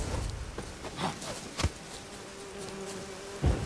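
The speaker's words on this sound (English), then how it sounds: "Oh, I hear some bees." Steady insect buzzing of bees in the fantasy role-playing game Hearts of Stone, a continuous close drone with a few soft thuds, no talking.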